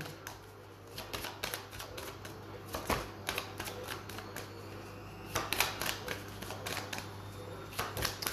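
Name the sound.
drawing three tarot cards from the deck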